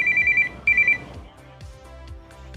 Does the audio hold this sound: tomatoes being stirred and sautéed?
no